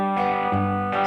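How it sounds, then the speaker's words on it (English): Acoustic guitar chords strummed with an open string left ringing when it should be muted, giving a sustained, slightly clashing shimmer; the chord changes partway through and rings on steadily, close and fairly loud, with no talking. "But you don't want that string to ring, because it will sound like this if you're playing."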